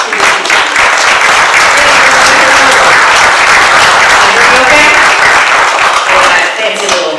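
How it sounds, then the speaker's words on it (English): Enthusiastic applause and hand clapping from a theater audience at a community playhouse, loud and dense, sustained for several seconds before easing slightly at the end, with some voices faintly mixed in. "give me a wonderful hand clap for Beth Beaman"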